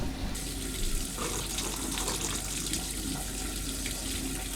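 Natural mineral water runs steadily from a public drinking fountain in Budapest, a continuous close splashing stream.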